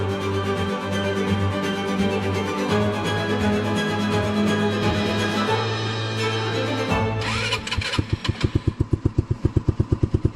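A snowmobile bought online from China has its engine started up close; it runs with a steady loud drone, then settles into a rapid, evenly pulsing idle with sharp regular beats near the end.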